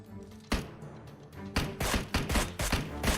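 Gunfire rings out in a PUBG Mobile match: one sharp shot, then a run of loud, closely spaced shots in rapid bursts over a low game background.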